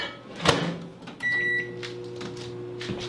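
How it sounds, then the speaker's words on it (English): A microwave oven melting margarine: a door thuds shut, a beep sounds, then the oven hums steadily with a low drone, with faint clatter nearby. "I'm gonna put this in the microwave and melt it right quick"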